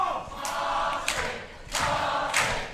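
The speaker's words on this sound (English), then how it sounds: "Crowd getting behind Marty Skirl." A wrestling crowd at an FWA show cheering and getting behind wrestler Marty Skirl, with surging waves of noise that swell and fade in rhythmic bursts, somewhat distant.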